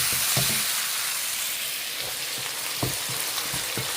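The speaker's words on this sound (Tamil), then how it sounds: "கத்திரிக்காய் இதுலேயே வெந்திருச்சு நல்லா தக்காளி வதங்கிக்கிட்டே இருக்கு" Tomato and brinjal sautéing in a pan, a continuous close sizzle of frying with a few sharp stirring taps and scrapes scattered throughout.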